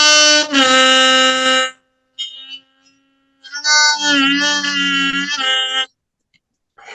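A blues harmonica plays two long drawn notes with a faint wavering tone between them; the second note bends and wavers in pitch, loud and close with no talk.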